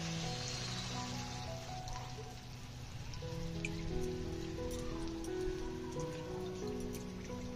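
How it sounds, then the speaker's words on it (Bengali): Strained raw milk pours into a cooking pot, a continuous close splashing and bubbling pour that runs steadily throughout with faint clinks, and no one speaking. "দুধটাও দিয়ে দেবো।"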